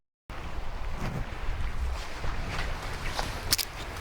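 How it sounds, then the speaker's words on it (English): Steady wind buffeting the microphone outdoors at a radar station while camping overnight in a tent, a low rumbling roar with gusts rising and falling, plus a few faint rustles near the end. "it's pretty windy though."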